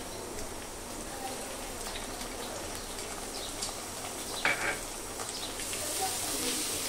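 Ginger and garlic paste frying in a pan with browned chopped onion, giving a continuous dense sizzle at moderate loudness, with a brief spoon clink midway.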